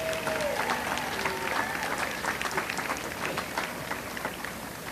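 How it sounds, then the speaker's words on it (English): Applause from an outdoor crowd at the opening ceremony of a 2018 Strassenfest street festival, a steady wash of clapping lasting throughout with some voices and crowd noise mixed in. "A big round of applause for Laura,"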